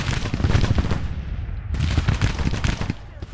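Dense, continuous rolling gunfire and artillery booms from a Grand Tactician: The Civil War battle, loud and close, with overlapping shots that barely pause.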